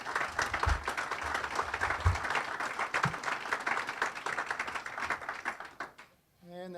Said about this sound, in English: So if we could just give Brian a round of applause.